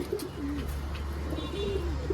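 Pigeons kept at a home loft coo steadily in low, wavering calls, several birds overlapping nearby with a restless, agitated feel.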